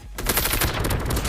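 Gunfire in Call of Duty Mobile, a quick burst of sharp shots close and loud across a short moment, with no talking.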